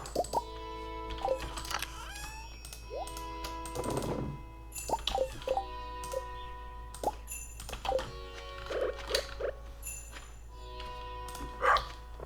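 A cartoonish dog barks repeatedly in Stardew Valley, short bright yips and bow-wows scattered across a backdrop of game chimes, plopping effects and steady music, with no talking.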